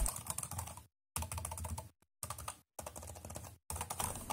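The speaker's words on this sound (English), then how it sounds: "let's check the typewriting experience" Fingers type on a Perixx Periboard 325 backlit USB Mac keyboard, producing soft, quiet key clatter in several runs separated by short pauses.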